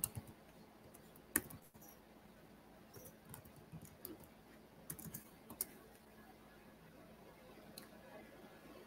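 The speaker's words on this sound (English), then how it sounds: "Maybe I need to type in like Japanese keyboard or something." Typing on a computer keyboard, quiet scattered key clicks and taps in irregular bursts with a couple of sharper knocks, fairly faint and close.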